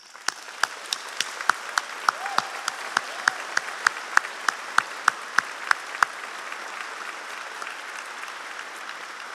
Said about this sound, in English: So please join with me in giving them also a grateful round of applause.